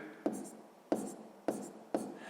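A pen writes numbers on paper while a sixth-grade math exercise with fractions is solved, giving four distinct tapping strokes at a steady rhythm, close and quiet over a faint hiss.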